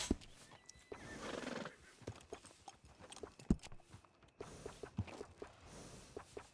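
A horse in the video game Red Dead Redemption 2 whinnies loudly near the start, then soft hoof clops and snorts follow at close range, with faint ambient game sounds beneath.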